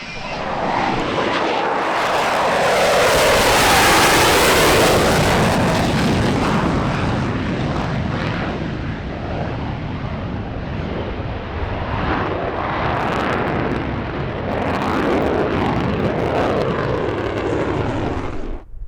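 An aircraft in a flying display at EAA AirVenture Oshkosh 2023 makes a loud, close jet pass, with its roar rising to a sweeping peak and then settling into a sustained rumble as it moves off.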